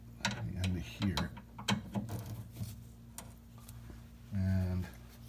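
Socket ratchet turning on the rear end link of a 2015 Ford Focus hatchback, several short bursts of rapid clicking spread across the clip, close and moderately loud, with a steady hum in the background.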